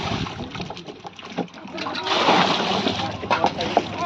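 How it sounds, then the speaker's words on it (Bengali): Native fish, including bata, jump and thrash while being moved from one pond to another, producing a busy, continuous mix of nearby splashes and sloshing water, with voices talking over the noise. "লাফাচ্ছে সব, এক পুকুর থেকে আর এক পুকুর ট্রান্সফার হচ্ছে।"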